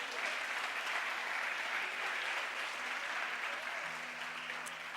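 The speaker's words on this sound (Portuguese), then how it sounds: "Você pode aplaudir a Jesus por isso?" A church congregation claps steadily and loudly for the whole stretch, a dense, even wash of applause with a faint tone lingering beneath it.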